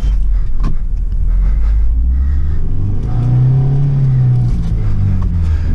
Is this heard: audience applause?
no